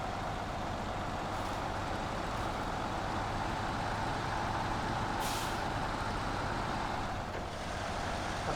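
A truck engine drones steadily after an early upshift into high, a constant low rumble with a short hiss of air brake release partway through.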